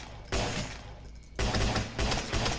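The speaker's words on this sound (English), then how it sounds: "The audio for the gun is alright. It's a little lacking in punch." A gun fires in the zombie shooter game Zombie Apocalypse in loud bursts of rapid automatic fire, three close volleys separated by brief gaps, dense and somewhat flat.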